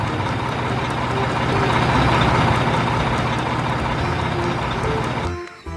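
A toy tank truck's engine sound plays as a loud, steady mechanical drone with a buzzing hum, holding for several seconds before cutting off abruptly near the end.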